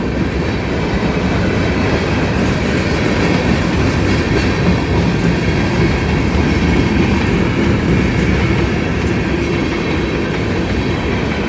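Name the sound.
mixed freight train passing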